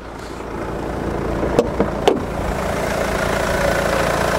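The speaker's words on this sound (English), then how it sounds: "Let's get the engine running." A Mercedes-AMG car engine idles steadily with a low, even rumble, close by, broken by a couple of brief clicks or knocks.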